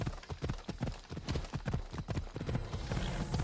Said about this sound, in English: The horse just decided to move on.